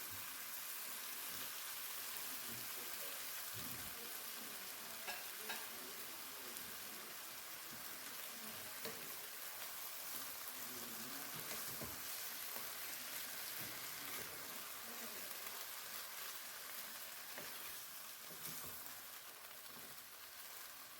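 Rice cooking in a pot gives a soft, steady hiss and sizzle with faint crackles throughout, quiet and continuous with no voices.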